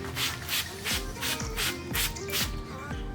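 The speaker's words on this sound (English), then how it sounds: "we gotta spray down this hood" A trigger sprayer mists cleaner onto a car hood before wrapping, with a series of short, close spritzes coming in an even rhythm, about three per second.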